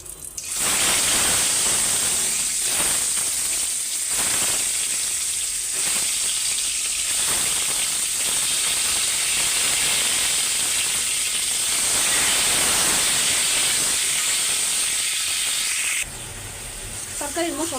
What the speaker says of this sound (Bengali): ডিম ভাজতে গেলে যতই তেল তেলা কড়াই থাক,